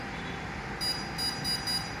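A Lighthouse Solair 1100 particle counter gives about four short, high electronic beeps in quick succession over a faint background hum.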